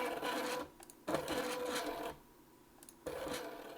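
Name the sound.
stepper motor run by Ethersweep Ethernet motor controller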